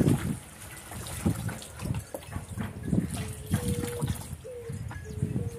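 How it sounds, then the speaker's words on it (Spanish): Water trickling and splashing as rinsed, eco-dyed fabric is wrung out by hand, a steady run of dribbles and drips with irregular pulses, close up and fairly loud, no talking. "Una vez que ya lo hemos enjuagado, procedemos a exprimir."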